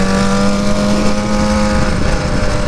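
A Dodge Charger's engine revs loudly and steadily up close, a sustained low droning tone with a constant hum running throughout and no one speaking.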